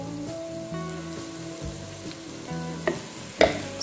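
Chickpea and spinach stew base frying in a pan with sweet paprika added, a steady close sizzle under faint scraping stirs, with a couple of sharper clinks near the end; no talking.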